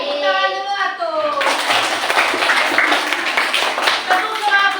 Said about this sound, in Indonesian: Kasih tepuk tangan dulu atuh.